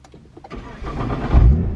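A Nissan GT-R engine cranks with a few quick starter pulses, then catches and swells into a loud, deep idle rumble, close and without talk.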